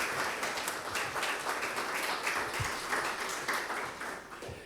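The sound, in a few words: audience applause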